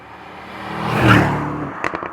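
Mercedes-AMG GT with a big V8 engine, a brief rising and falling roar that swells to a peak and fades, followed by a few sharp pops at the end.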